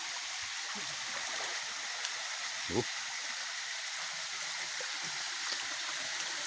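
A stream flows in a steady, unbroken rush of running water, close by, with a faint brief knock partway through.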